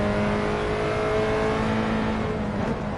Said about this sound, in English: you're just pitching the car sideways with the throttle